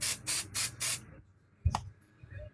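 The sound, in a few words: spray bottle spraying onto quilting fabric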